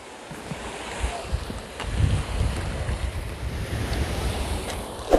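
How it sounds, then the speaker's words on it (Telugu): Water rushes over a highway checkdam waterfall at GangKathwa on NH 65 in a steady, broad roar, with gusts of wind buffeting the microphone throughout. "నీళ్ళు అయితే ఫుల్ ఉన్నాయి, అక్కడ నుంచి చాలా దూరం నుంచి వస్తున్నాయి"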